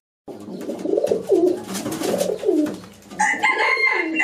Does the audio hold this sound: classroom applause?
no